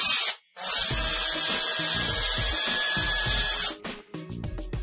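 Cordless drill spinning a screw through a flexible shaft extension at an angle, a loud continuous high whine for about three seconds that cuts off abruptly, followed by short stuttering bursts of the motor.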